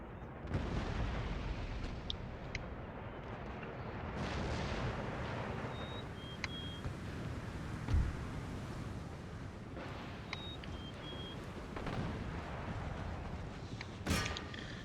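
Artillery and mortar fire in Empire: Total War booms across a battlefield, with deep repeated cannon blasts and sharp reports, some distant and some close, including a loud crack near the end.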